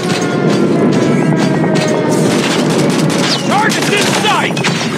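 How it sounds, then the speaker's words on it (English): Call of Duty Mobile airstrike explosions land with repeated booming blasts layered with rapid gunfire crackle in dense, continuous bursts of loud battle noise, without speech. "Friendly airstrike incoming."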